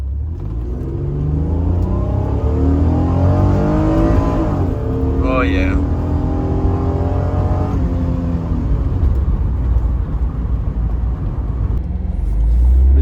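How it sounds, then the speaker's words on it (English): A 1991 Honda NSX engine with strong induction noise while driving, its revs rising and falling in clear sweeping harmonics that stay loud throughout, with a brief spoken remark from inside the car. "Let's see if we can get a little bit of induction noise in here."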